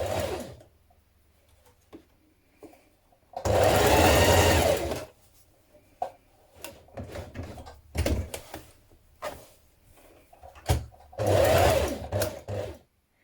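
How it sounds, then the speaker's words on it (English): A sewing machine stitches around the neck opening of a dress in several short bursts: one long run, a few brief stops and starts, then another long run, close and clear with quiet gaps between. "now we're going to stitch around that neck opening, squaring it off at the bottom and up the other side"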